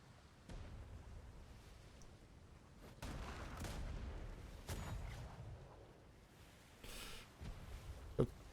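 Mortars fire in a naval combat video game as a series of dull, distant booms and rumbling blasts spread irregularly over several seconds. The sound is faint and low, with one sharper crack near the end.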